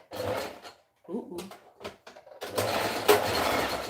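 Sewing machine stitching a waistband onto a pair of pants, short bursts of whirring motor interrupted by pauses and handling clicks, ending with a longer steady run.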